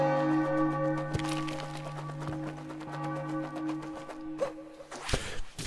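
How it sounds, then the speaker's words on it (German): Church bells in Super Mario Odyssey peal steadily with overlapping sustained tones, then a few louder struck clangs near the end; no talking over them. "Das Läuten wird immer lauter."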